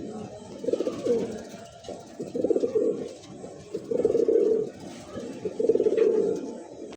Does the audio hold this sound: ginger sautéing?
no